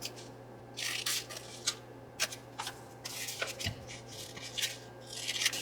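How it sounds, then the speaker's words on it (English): Scissors snipping through a book page at an angle while making junk journal ephemera, a series of short crisp cuts and paper rustles close up in a quiet room, with a low steady hum underneath. "And our last one is our book page, removing these 2 and cut at an angle."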